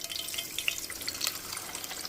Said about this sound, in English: As you can see, we're pouring it through here.